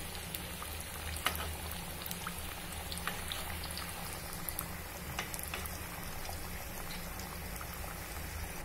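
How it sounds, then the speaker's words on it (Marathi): Spinach vadas frying in hot oil in a kadhai over a high flame give a steady soft bubbling with small pops and crackles, fairly faint and continuous, with no talking. "वडे जेव्हा आपण कढईमध्ये सोडतो तेव्हा मी गॅस मोठा ठेवतेय"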